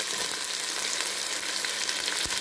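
Tomatoes fry in a pan with whole spices, onion and a ginger, garlic and green chili paste for chana pulao. The sizzle is loud, close and continuous, with a soft clunk near the end.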